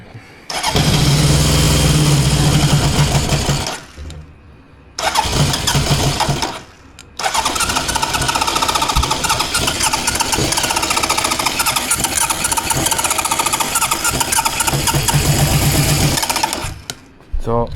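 A 1977 Honda CB750K motorcycle engine cranks and fires in long, loud, rough bursts, cutting out twice before catching again and running raggedly, recorded up close.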